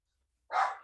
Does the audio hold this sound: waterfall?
no